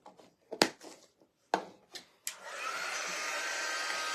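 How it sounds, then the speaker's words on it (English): A hair dryer switches on after a few knocks and taps during Halloween crafting, then blows in a steady, fairly soft whoosh until the end. "And let's grab our dryer."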